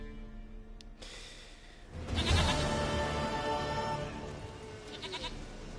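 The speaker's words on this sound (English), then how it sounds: "Goat of mine, dearest, sweetest goat." Goat bleating in The Witcher 3: Wild Hunt, a short plaintive cry that rises out of a game ambience of music and background sound, fairly close and moderately loud before the scene settles.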